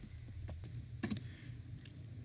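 Keys tapped on a computer keyboard while a password is entered, a sparse run of light, irregular clicks with one quick cluster in the middle, close and quiet.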